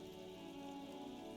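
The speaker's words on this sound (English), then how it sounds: "rain dripping off Eternite-covered roofs" Steady rain drips off Eternite-covered roofs along an urban coastline in a video game, a constant wash of patter that sits under a soft tonal hum throughout.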